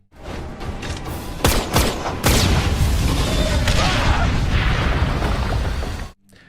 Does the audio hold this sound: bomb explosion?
yes